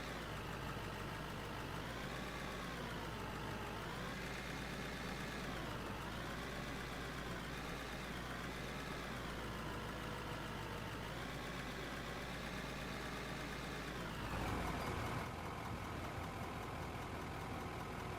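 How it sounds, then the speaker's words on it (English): A loader engine idles in the mining video game Out of Ore, a steady low mechanical drone with slowly wavering pitch that runs continuously throughout, shifting slightly near the end. "Just as I go to turn off the engine"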